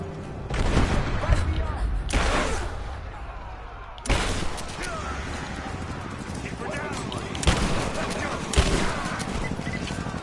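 Bursts of gunfire ring out at the edge of a village in the Tomb Raider video game, with loud repeated shots over a busy, noisy background.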